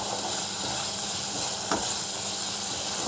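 Ground spices such as Kashmiri chilli, coriander, cumin and ginger powder fry in a hot pan, giving a steady, even sizzle with one brief louder crackle partway through.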